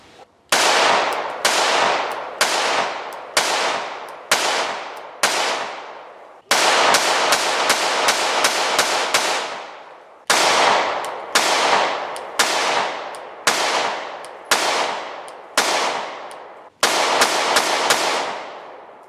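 Rounds fired from a Shadow Systems CR920P compensated micro 9mm pistol ring out as a long series of sharp, loud reports, some well spaced and some in quick strings, each trailing a brief echo.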